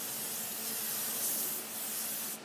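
Canola oil sprayed onto a grill makes a steady, close, airy hiss that holds for about two seconds and cuts off abruptly at the end, with no voice over it.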